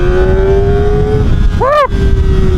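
A Kawasaki Ninja ZX-4RR motorcycle engine screams at high RPM, around 12,000 in second gear at speed, a loud sustained whine that dips briefly with a quick gear shift before climbing again, with heavy wind rush.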